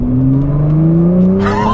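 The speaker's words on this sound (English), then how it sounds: "The car just thrusts you back into your seat, and that 0 to 60 time is just superb." A Nissan GTR Recaro Edition accelerates hard from inside the cabin, its loud engine note rising steadily in pitch through the gear, with a brief rush of wind near the end.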